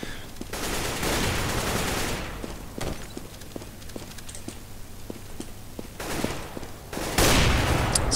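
Gunfire in the CS:GO video game: loud bursts of automatic fire at the start and end, with scattered single shots and rapid keyboard clicks in between.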